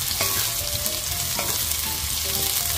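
Onions are stirred and sautéed in a pan for ginisang upo with sardines. A close, constant frying sizzle is punctuated by a couple of sharp spatula scrapes against the pan.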